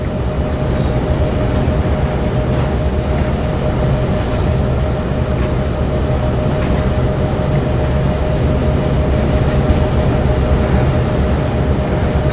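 Train rumbling along the Clinchfield Railroad in the video game Train Sim World 2, a steady loud low drone with a sustained hum, continuous and unbroken throughout with no talk.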